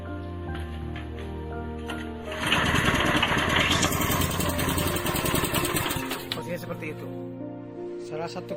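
A pellet-making machine motor hums steadily, then surges into a loud, dense mechanical roar as it runs up, with a voice talking over it throughout.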